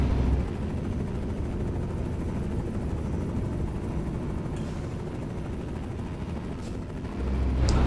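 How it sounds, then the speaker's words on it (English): A helicopter in Euro Truck Simulator 2 with Promods drones continuously overhead, its steady rotor roar filling the scene and swelling slightly at the end, with no talking. "So obviously it's that I can hear the helicopter."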